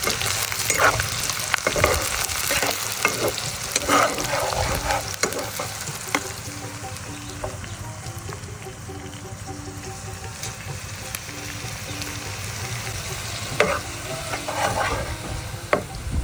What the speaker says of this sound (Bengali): এই যে আমি পেঁয়াজ কুচিটা দিয়ে দিচ্ছি এবার মরিচ কুচিটা দিয়ে দিব এটা একটু আমি বাদামি কালার হওয়া পর্যন্ত একটু নাড়াচাড়া করব